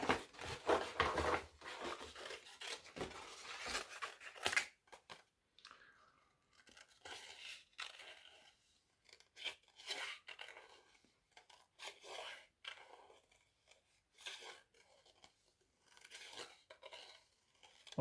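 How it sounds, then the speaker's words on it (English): Scissors snip and rustle through paper while cutting out shapes, in a dense burst of crisp cuts at first, then quieter, irregular snips with short pauses between. "And you'll need a pair of scissors."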